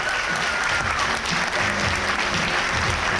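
Passengers on a cruise ship give the hard-working crew a big round of applause, loud continuous clapping from a large crowd with a low murmur of voices underneath.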